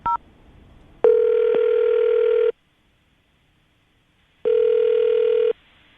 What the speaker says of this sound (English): I'm going to dial the number now, see if we can get her on the phone